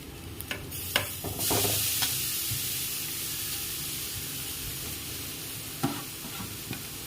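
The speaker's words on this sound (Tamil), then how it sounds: "நல்லா வணங்கினதும் கேரட்டும் பீட்ரூட்டும் சீவி வச்சுருக்கோம், அது போட்டுக்கலாம்." Grated carrot and beetroot hit a hot pan and sizzle loudly, settling into a steady close frying hiss with a few sharp scraping clicks of stirring.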